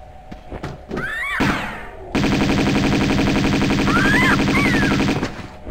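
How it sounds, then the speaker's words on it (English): Uzi gunfire in the Tomb Raider II remastered game, Temple of Xian level: loud, rapid automatic bursts, a short burst followed by a sustained stream of fire lasting about three seconds, with game effects in between. "And now we're going to get the Uzis out."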